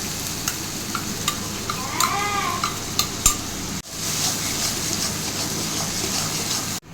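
Onion, garlic and green and red chili paste sautéing in hot oil, a steady close sizzle with sharp spatula taps and scrapes on the pan, briefly interrupted midway before the frying resumes, no voices.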